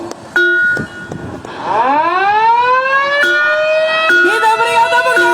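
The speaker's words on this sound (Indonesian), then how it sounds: "kedua paslon akan memukul gong sebanyak 3 kali" A gong rings out three times, struck by two gubernatorial candidates at a political campaign declaration rally. The loud strikes leave long, sustained ringing tones that swell and bend in pitch, with a crowd faintly underneath.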